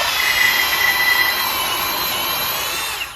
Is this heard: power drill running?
yes